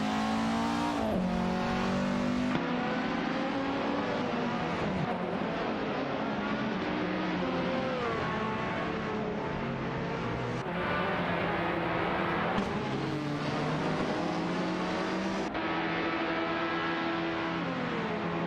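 Race cars in a video game race hold a steady, loud engine drone through the whole stretch, with revving pitch sweeps as cars shift and overtake, over a continuous busy layer that sounds like game music or crowd noise.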